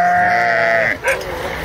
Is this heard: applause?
no